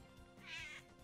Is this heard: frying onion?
no